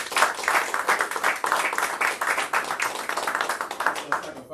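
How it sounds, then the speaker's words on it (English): Rapid, dense clapping from a seminar audience at a money-making event, loud and close, with a voice faintly audible beneath it. "Give yourselves a round of applause, please."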